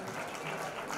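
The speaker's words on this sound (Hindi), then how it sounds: "जोरदार तालियां इस बालिका के लिए" Audience applauding for a girl being honoured at a Dhakad community talent award ceremony, a steady dense wash of clapping filling the full second without a break.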